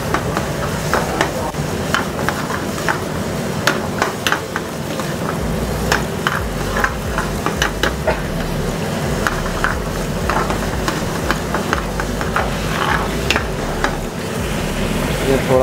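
Already-grilled tandoori chicken pieces sizzling in masala in a restaurant kitchen pan, with a continuous loud fry and frequent sharp scraping clicks of a spatula stirring, steady throughout.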